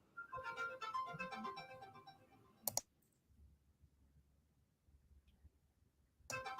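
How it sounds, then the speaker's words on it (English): A phone's tonal ringing pattern plays faintly in the background for under three seconds and ends in a sharp click. Near silence follows, then another abrupt click. "I can hear a phone or something"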